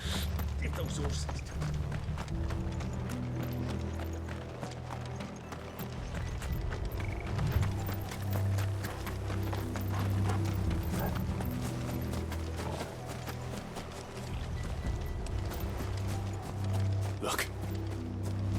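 Horse hooves clatter in a fast, continuous gallop in Final Fantasy 16, amid creaking and mechanical noise, steady and fairly close throughout.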